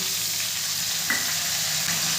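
Carrot, potato and beans fry in a pan with a steady, even sizzle and a brief stirring clatter as peas are added, no voices.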